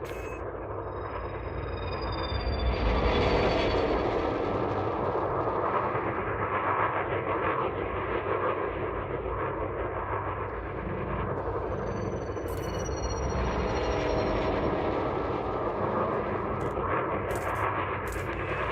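Spaceship engines in the video game Elite Dangerous roar as a continuous loud rumble, with thruster hisses and a few sharp bursts near the end, and no talk.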